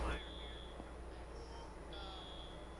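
A fire alarm in a Roblox roleplay game sounds at an auto body shop, long steady high electronic tones repeating, fairly faint under low background noise.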